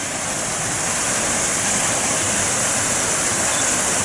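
A park waterfall pours in a constant, full roar of rushing water, loud and unbroken throughout with no voices over it.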